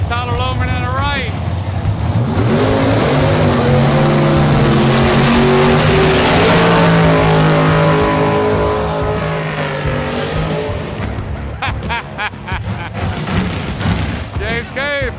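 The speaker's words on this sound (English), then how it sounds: "full track burnout" A drag race car on a no-prep lane does a full-length burnout, its engine roaring loud and sustained with rising revs and tire screech for most of the stretch, then fading as it backs up, with a crowd and announcer talking throughout.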